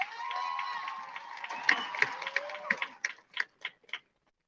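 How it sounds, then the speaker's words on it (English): Graduation ceremony crowd at Washington High School applauding Ms. Bryant, a steady roar of clapping and cheering that fades into a handful of separate, distinct claps near the end. "Let's give another round of applause for Ms. Bryant."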